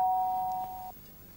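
A doorbell rings indoors with a single steady, fairly faint electronic chime that holds for almost a second and then cuts off, leaving quiet room tone.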